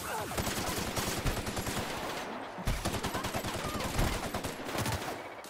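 Dense sustained gunfire in the video game The Outer Worlds, rapid automatic bursts with heavy low thumps running almost without pause, loud and close, with a brief gap midway.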